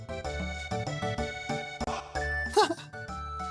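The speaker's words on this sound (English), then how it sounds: "Legend has it that people who hear Lean's bell live happily ever after." In the Chrono Trigger video game, a bell in Leene Square rings with bright chiming tones over layered game music, one ring standing out loudly near the end.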